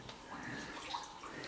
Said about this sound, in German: ne, plätschert.